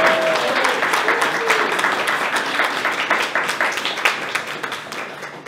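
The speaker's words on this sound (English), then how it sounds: "Let's give her a round of applause" A room of guests at a disability access awards ceremony claps steadily for an honoree, the applause dense and sustained throughout with a faint voice briefly audible near the start.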